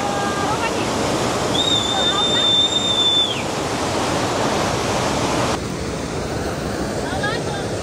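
The Nikas river near Birendranagar, Surkhet, rushes in a steady, loud broadband wash, with a thin whistling tone briefly rising above it early on.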